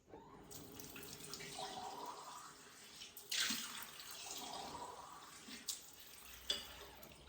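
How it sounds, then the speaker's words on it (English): Water runs from a tap as flower posies are refreshed, a quiet gushing stream with splashes and brief louder pours, with a few clinks of containers and no talk. "Next morning, first job, refresh the water in all the posies."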